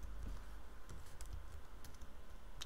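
Steady typing on a computer keyboard while coding in Visual Studio, with quiet, irregular clicks and occasional sharper key taps over a low background hum, close and without talk.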